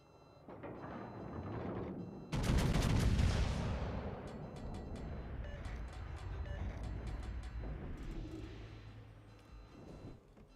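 Heavy naval guns fire at an Iowa-class battleship in World of Warships: Legends, a loud booming salvo followed by rumbling and scattered sharp reports, with no talk over it.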